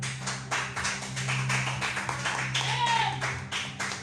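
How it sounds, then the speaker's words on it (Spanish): A church congregation claps during a home-church service, a brisk patter of hands over a low musical drone, with voices mixed in. "Dale un aplauso al Rey."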